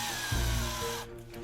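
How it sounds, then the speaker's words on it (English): A power drill bores a pilot hole into a ZProps Fatebringer prop kit part, a steady whirring tone running close and moderately loud for about a second before winding down. "I will drill a pilot hole."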